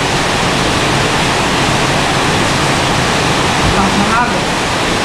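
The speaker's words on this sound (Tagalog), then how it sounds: "Lakas ng agos." Rain-swollen water rushes past in a strong current, a loud, unbroken roar filling the whole clip.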